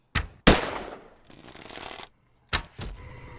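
Gunfire in the video game Hurtworld as players shoot at a Yeti: a few sharp, loud shots come in two clusters with reverberant tails between them, no speech.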